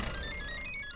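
A mobile phone ringtone plays in a Taarak Mehta Ka Ooltah Chashmah scene, a brief series of bright electronic beeping tones over a busy background, without speech.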